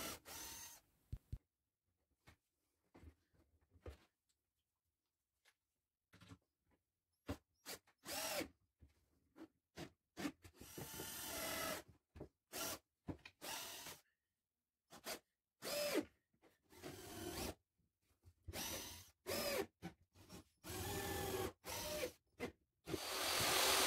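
Power drill driving screws into simple butt joints on a wooden shelving and cabinet unit for a mitre station, heard as a series of short bursts of whirring separated by pauses, close and loud, with no talking.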